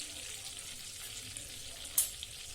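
A spoonful of cumin seeds (jeera) sizzles in hot oil for chole curry, a soft continuous hiss with one brief sharp crackle near the end.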